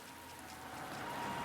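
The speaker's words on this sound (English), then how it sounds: "It starts raining on the way to Hitsui Hospital" Steady rain falling as an ambient effect in an RPG Maker MV game, a soft hiss that grows a little louder over its brief span.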